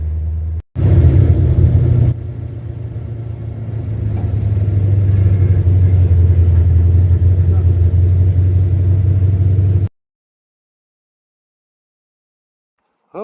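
An old project car driven for the first time since 1999, pulled at about 90% throttle to 4,500 rpm. A loud low engine drone rises and holds, then cuts off abruptly into silence.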